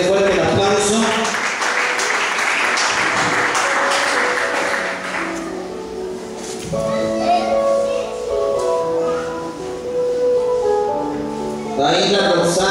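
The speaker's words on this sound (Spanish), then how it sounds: "Felicidades, dele fuerte el aplauso." Church congregation applauding during an award ceremony for the flag ministry, a broad wash of clapping loud at first, easing off midway while music and voices carry on, then swelling again at the end.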